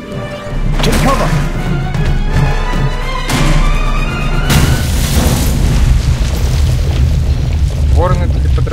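Several heavy booming explosions in the video game The Raven, with loud blasts and rumbling debris over a sustained noisy background.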